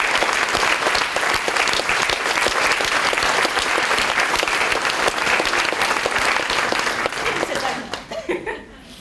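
Live audience at a talk in a large exhibition hall bursts into loud, sustained applause with some cheering and laughter, dense clapping filling about eight seconds before tapering off quickly at the end.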